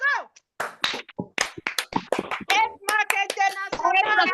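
A French-speaking crowd at a gathering bursts into a loud, rhythmic collective cheer, with shouted chanting voices and scattered hand claps close by, rising in energy toward the end.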